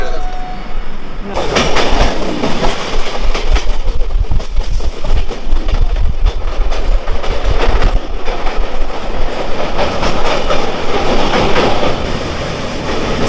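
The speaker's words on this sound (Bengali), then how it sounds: "ট্রেন হুইসিল দিয়ে দিয়েছে" Jammu Tawi Express (13151) at Dakshineswar station, with a steady loud rumble and rhythmic clickety-clack of wheels on rails and a brief tonal whistle-like sound at the start, with some voices in the background.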